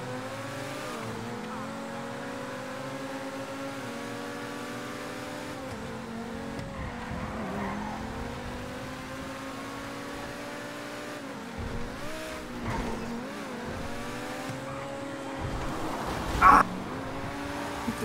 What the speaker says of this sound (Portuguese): o Luizão dá a largada. Vai, 3, 2